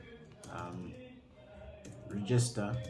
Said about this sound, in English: let me just type in something here